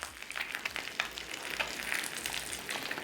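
Eggs frying undisturbed in hot, slightly smoking oil in a pan, giving a steady close crackling sizzle with scattered pops throughout, no voices.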